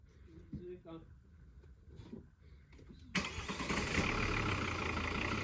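A Volvo car's engine cranks and catches after a few seconds of quiet talk, then settles into a loud, close, steady idle.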